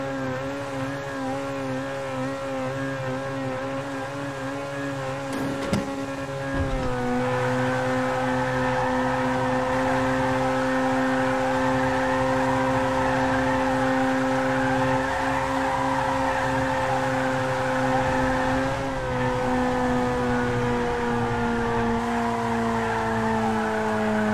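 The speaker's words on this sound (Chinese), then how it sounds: "这发动机声音是一个比一个响" A BMW X5 engine in GTA 5 drones loudly and steadily as it climbs a steep slope, its pitch holding with slight shifts and one brief bump in load, with no talk.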